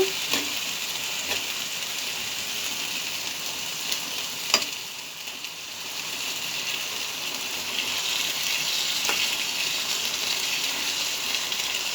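Chickpeas stirred in a hot pan for a sweet festival dish: a steady sizzling hiss runs throughout, with a few faint clicks of the spoon against the pan, close and even, with no voices.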